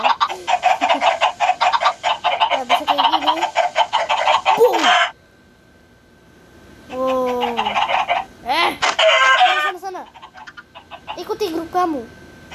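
Chickens cluck and crow around a house full of white hens and roosters, a dense loud stretch of calls, then a pause and scattered squawks near by, with a voice talking between them.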